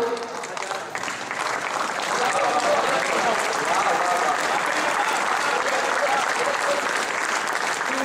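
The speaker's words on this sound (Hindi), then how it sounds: "इन पंक्तियों पे आपकी तालियां चाहूंगा" An audience at a kavi sammelan poetry recital at BARC Tarapur breaks into dense, continuous applause that swells after a moment and holds steady at full strength.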